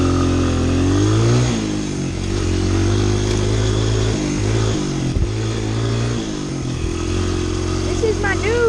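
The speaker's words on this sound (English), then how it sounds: "This is my new dirt bike." Engine of a Honda CRF100 dirt bike being ridden through fields and on dirt roads, a steady mid-pitched drone that rises and falls slightly with throttle, loud and close throughout, with a voice speaking over it.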